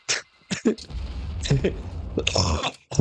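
A few harsh, throaty coughs burst out in a short irregular run, close by, with rough rumbling noise between them.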